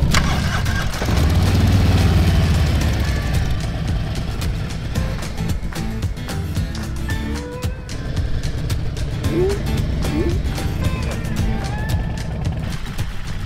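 An engine runs on a road in China toward Mongolia. The rough, busy mid-pitched engine noise is mixed with road sounds and carries on steadily throughout.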